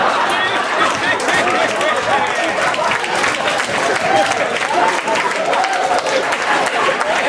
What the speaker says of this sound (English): that's the most applause I've ever gotten for me